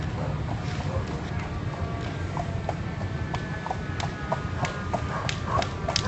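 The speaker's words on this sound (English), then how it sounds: "Yep, here's one of the horses coming by." A horse walks past near burning stables on a bluff road in Montebello, its hooves clip-clopping in a steady, fairly close rhythm against continuous wind noise.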